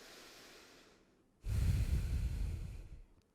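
Someone breathes while holding a tricep exercise: a faint soft inhale, then a louder, longer rushing exhale close to the microphone, alone without talk.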